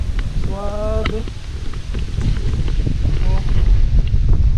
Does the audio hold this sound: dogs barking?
no